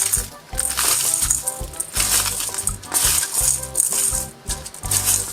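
Bitter melon pieces kneaded and squeezed by hand with salt in a basin, giving a dense, continuous wet crunching and rattling, with a steady music bed underneath.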